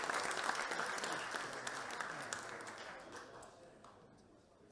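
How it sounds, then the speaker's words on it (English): Theatre audience at the playhouse, during an evening with Chelsea football legends, breaks into dense, sustained applause that stays loud and fills the room before easing slightly near the end. "So please give them a round of applause for the playhouse"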